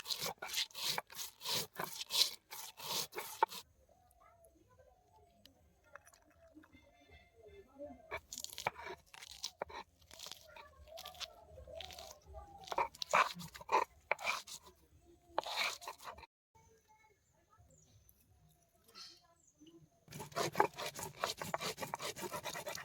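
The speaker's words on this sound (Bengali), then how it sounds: "আমরা এখন আন্ডা কারির জন্য বেটে নেব জিরে, ধনে, শুকনো লঙ্কা," Cumin, coriander, dried chilli and garlic are ground for egg curry in bursts of rough, gritty rubbing and crunching, with quieter pauses between the bursts and a strong final run.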